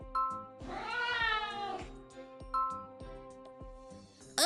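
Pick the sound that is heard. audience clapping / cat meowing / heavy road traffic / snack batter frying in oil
cat meowing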